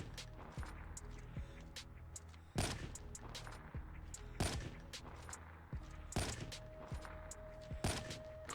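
Locust sniper rifle with scope firing in Call of Duty, several sharp loud shots spaced a couple of seconds apart, each followed by bolt and reload clicks, amid quieter in-game battle noise.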